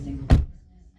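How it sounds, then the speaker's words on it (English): A single solid, low thunk of a Subaru car door shutting, close by, with a short dull resonance that quickly fades to quiet. "a solid sounding thunk when you get into a Subaru product"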